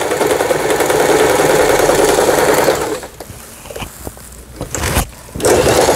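An Elna 220 household sewing machine runs a zigzag stitch, whirring loudly and steadily for a few seconds, stopping with a few clicks and knocks, then starting up again.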